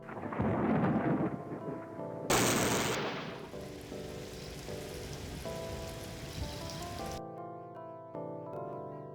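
A thunderstorm with rain in the Discworld video game: loud rumbling thunder opens, then a burst of crackling and a sustained wash of rain and wind, which cuts off abruptly into quieter music-like tones.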